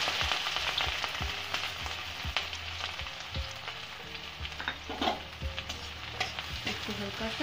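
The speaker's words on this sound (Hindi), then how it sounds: "तेल हमारा गरम हो गया है, इसमें हम डालेंगे हरी मिर्च। अब डालेंगे प्याज।" Green chilies and onion crackle and sizzle in hot oil for a macaroni dish, a steady frying hiss broken by frequent sharp pops and the clatter of stirring, close and fairly loud throughout.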